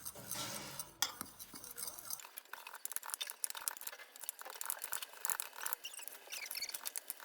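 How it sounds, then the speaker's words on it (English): A whisk scrapes and clinks through dry dark brown sugar, white sugar, cinnamon, cornstarch and salt in a bowl for cinnamon rolls, with quick irregular ticks and rattles after a brief louder clatter at the start. "Now I'm just going to whisk this together"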